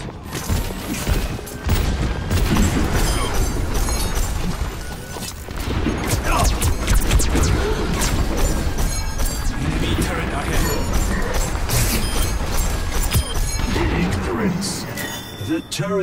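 Loud, dense video game combat with rapid crashing impacts, bangs and mechanical clatter as an enemy turret is destroyed, sustained for most of the stretch, with voices talking over it.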